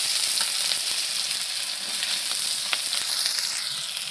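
Sliced onions hit hot oil with burnt cumin in a pan, giving a loud, steady sizzle and hiss that carries on unbroken throughout, close and with no voices.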